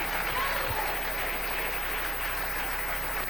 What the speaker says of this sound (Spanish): Denle un aplauso al Rey en esta noche.